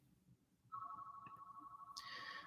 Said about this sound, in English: Someone's calling on the house phone.